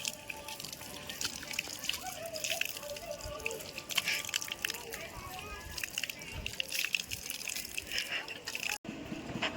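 Water splashing and dribbling as feet are washed outside the Saraswati temple at Wargal, Siddipet district, with a steady wet sloshing texture against light outdoor background noise and a short cut near the end.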